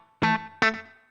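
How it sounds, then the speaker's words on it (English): Guitar played through a Line 6 HX Stomp set for a country tone with a very quick slapback delay: two bright, twangy notes or chords, each followed by a tight echo that rings out and fades, no talking. "set to a really quick slap back, so 1/16 milliseconds"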